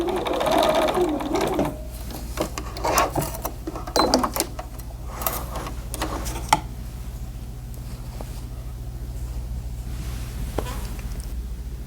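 A sewing machine stitches bodysuit fabric in quick, continuous mechanical whirring, broken by brief stops and clicks as the presser foot and fabric are adjusted.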